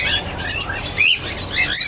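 Finches in breeding cages at an exhibition finch setup chirp in quick, bright, overlapping tweets, several birds calling at once close by, with no one talking.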